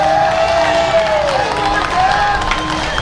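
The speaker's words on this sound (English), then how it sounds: "A little bit of crowd getting into this call." Spectators at a men's softball tournament, the 2017 Major World Series, cheer and holler over a close play, a loud, busy crowd roar with whistles and scattered whoops, mixed with nearby chatter.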